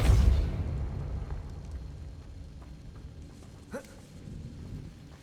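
Confringo and Depulso spell blasts in Hogwarts Legacy, a heavy booming burst at the start that rumbles away, followed by a short sharp pop a few seconds later.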